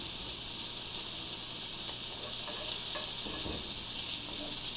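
Nopales (cactus) frying in a pan, a steady hiss with light crackles running through the whole stretch at an even level, with no talk.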